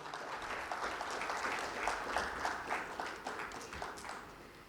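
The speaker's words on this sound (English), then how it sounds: "A big round of applause for them." Audience applause at an ICAI inauguration ceremony as guests are escorted to the dais, a steady wash of many hands clapping at moderate distance, fairly even throughout with no speech over it.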